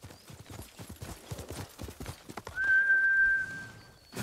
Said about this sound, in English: Let's get the horse.